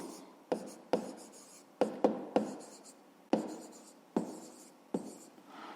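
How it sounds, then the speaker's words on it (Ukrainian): A pen on paper writing out a fifth-grade math exercise solution, a series of about ten distinct taps and short scratching strokes in an irregular rhythm, close and quiet, no talking. "Давайте так і запишемо, що окрім того."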